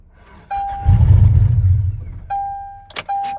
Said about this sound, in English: crank your truck. It'll run for a couple of seconds and then stall out